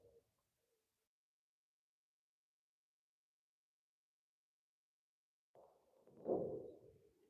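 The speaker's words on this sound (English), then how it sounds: "We've got what I think is a screech owl moving around." A screech owl calling outdoors at night in Southern California, one brief faint call at the start, then a long silence before a louder, low, hooting call near the end.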